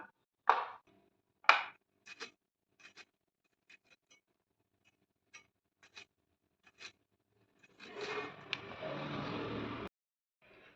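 Ivy gourds sliced lengthwise with a kitchen knife: sharp, isolated taps of the blade at irregular intervals, quiet and close, followed by a short burst of rustling handling noise near the end.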